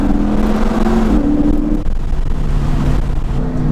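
A Lexus IS F with long tube headers and a straight pipe exhaust rumbles loudly and continuously in sport mode, its engine note shifting pitch through downshifts with a gritty, aggressive drone.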